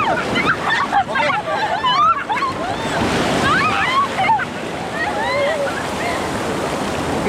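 Strong sea current and surf at a beach resort in San Narciso, Zambales, roaring steadily and loud throughout, with a voice talking over the rushing water.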